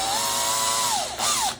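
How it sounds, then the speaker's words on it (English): A power drill whines steadily as a bell hanger bit bores a hole, its pitch sagging under load, briefly dipping, then revving back up before slowing; loud and close with no talking. "need to drill that hole right there"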